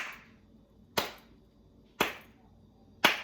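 Three crisp hand claps at a steady one-second pace, each ringing out briefly in a reverberant room.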